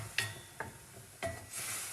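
Tomatoes frying in a skillet with a little broth, several sharp spatula scrapes and stirs over a soft sizzle that rises into a brighter hiss at the end.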